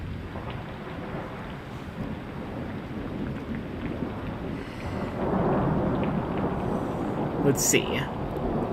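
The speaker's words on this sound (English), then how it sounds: "I'm not sure if the storm in the background is overlapping with my voice" Thunderstorm with steady rain roaring in the background, a broad continuous wash of noise that swells louder midway, with a brief spoken phrase over it.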